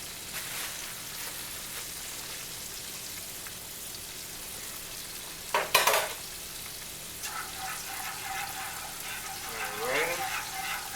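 Flour is stirred and cooked in a skillet of pork chop drippings for gravy, giving a soft, steady sizzle and light scraping close by. A short sharp clatter comes partway through, and a person speaks quietly underneath.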